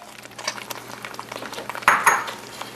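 Shrimp being stirred into a thick cheesy potato chowder in a pot, a spoon scraping and clinking against the sides with soft wet sloshing, one louder knock near the end.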